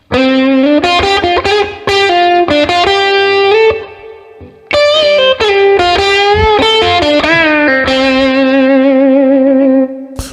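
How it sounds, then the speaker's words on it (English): Jazzy backing track in a 1970s style, with effected, distorted electric instrument lines playing loud and continuous, a brief dip partway through before the music resumes, no voices. "It's just a generic jazzy backing track."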